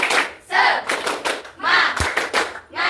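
A class of seventh-grade students does a rhythmic clapping cheer, chanting shouted syllables in short, regular bursts with claps and a single dull thump between them.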